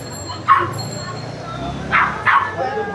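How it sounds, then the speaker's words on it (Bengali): Dogs at a busy pet and bird market in Mirpur give a few short, sharp yips and barks close by, spaced irregularly over a low background hum. "এই যে ডগগুলো"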